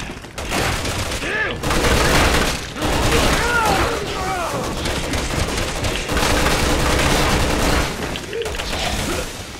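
Loud, dense gunfire in Resident Evil 6, sustained volleys with booming impacts and rapid shots filling the scene, while someone talks over the action.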